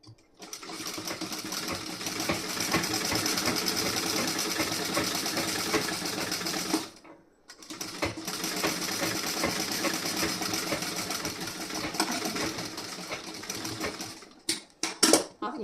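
A sewing machine runs in two long, steady bursts of stitching on the front part of a blouse, with a short pause between them and a few quick stops and starts at the end.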